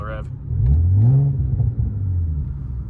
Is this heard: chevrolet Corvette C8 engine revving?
yes